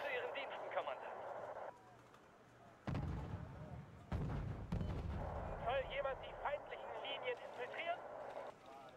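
Artillery firing in a 1980s ANZAC-themed war video game, several heavy booming blasts in the middle of the clip, with someone talking before and after the shots.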